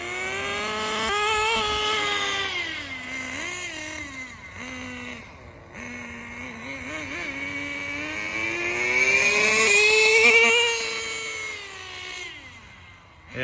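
A Thunder Tiger Tomahawk RC car's small nitro engine runs steadily, its whining pitch rising and falling as the throttle changes, building to a loud high rev near the end before dropping away, with no talk over it.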